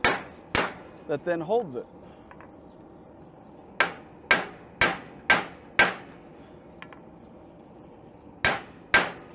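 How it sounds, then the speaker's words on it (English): Steel being hammered into a bending jig: about ten sharp, ringing metallic strikes, close and loud, mostly spaced in a steady run, with someone briefly speaking between blows. "If I can smash in a piece of steel"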